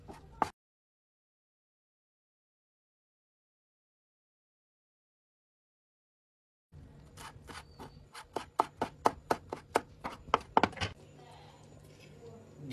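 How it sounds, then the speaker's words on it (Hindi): Fresh coriander being chopped for garnish on a chicken karahi: a quick run of crisp knife taps on a board, close and fairly quiet, after a long silence. "ये गार्निश के लिए ना इसको कटिंग कर लेते हैं जी।"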